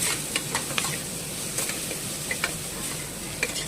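Tomato and spices fry in a pan for mutton sambar, a steady soft sizzle broken by light spatula scrapes and ticks against the pan at an irregular pace, close up and alone.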